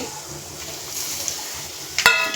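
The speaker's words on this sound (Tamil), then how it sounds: "எண்ணெயிலே இது போட்டு நல்லா வணக்கிடணும்" Sizzling hiss of fennel, cumin, cinnamon, curry leaves, chana dal and mustard seeds frying in hot oil, steady and close, with a sharp metallic clink of a utensil against the pan near the end.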